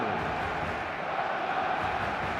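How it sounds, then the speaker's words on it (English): Stadium crowd noise from an eFootball match on match day, a steady broadband roar of a full crowd that holds at an even level throughout with no clear peaks or individual voices. "The stadium is full of noise and energy."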